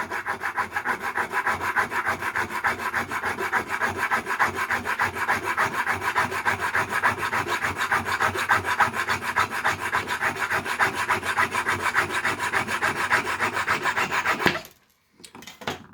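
Close, continuous rasping of a pull saw trimming off the excess end of a screw pressed onto a block of wood, fast regular strokes for about fourteen seconds before stopping abruptly, with a faint clatter afterward.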